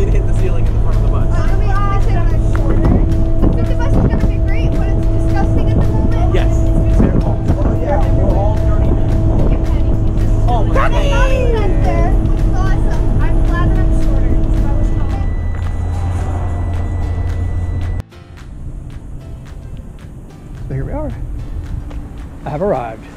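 A school bus engine idles loudly and steadily with a low drone, with someone speaking over it, until the engine cuts off near the end and leaves quieter room noise.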